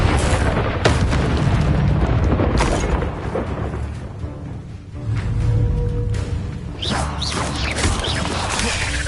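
Bombarda spell explosion in Hogwarts Legacy, a loud rumbling blast with booming low-end debris noise amid ongoing combat effects, several dull impacts rolling through the scene.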